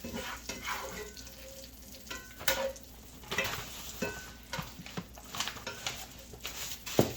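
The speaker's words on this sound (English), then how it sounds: "the rest of that grease in here is definitely going to fry this bacon up" Bacon frying in a skillet of bacon grease and butter, a quiet close sizzle with patters and pops, broken by scraping stirs and utensil clicks, no talk.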